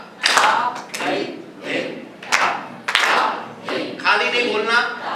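Group hand clapping marking the tala cycle at a tabla workshop in Varanasi, several sharp claps interspersed with voices chanting syllables and talking, moderately close.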